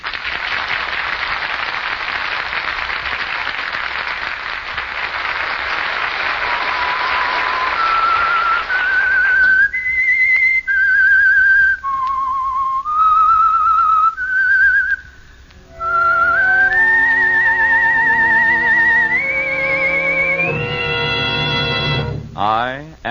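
Whistled theme of The Whistler mystery radio drama: a lone human whistle rising through a slow, eerie melody of sustained notes, followed by an orchestral sting and brass chords, all loud and close.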